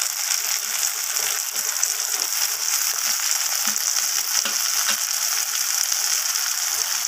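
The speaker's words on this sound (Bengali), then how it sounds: "টমেটোটা দিয়ে ভালোভাবে একটু আমি নাড়াচাড়া করে ভেজে নেব" Chopped tomatoes and onions fry in a pan with a continuous bright sizzle and hiss, broken by light scraping and clicking as they are stirred.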